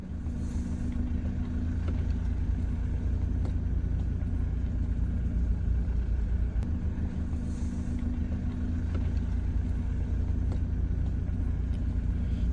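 A Toyota Hilux with a roof tent pulls away on a stormy Alpine touring day, its engine giving a steady low rumble and drone that stays close and even throughout, with no talk.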